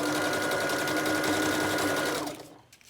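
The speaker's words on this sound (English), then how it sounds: "gonna sew through this whole stack" A sewing machine runs steadily, stitching through a stack of paper strips in a continuous close-up whir that stops just before the end.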